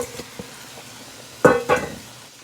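Two short bursts of sizzling from vegetables sautéing in a hot pot, with faint clinks beforehand in a quiet kitchen.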